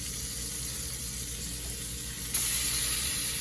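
Onions cook in a cast iron pan with a constant loud hiss of frying that steps up slightly partway through and then holds steady, close by, with no voices.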